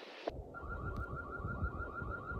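A Reolink E1 Outdoor security camera siren sounds from about 200 feet away across an open field, a faint, steadily warbling electronic tone over low wind rumble.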